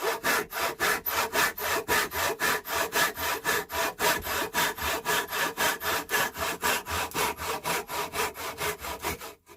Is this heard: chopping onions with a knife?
no